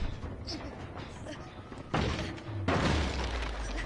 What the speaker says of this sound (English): Oh, he broke the door downstairs.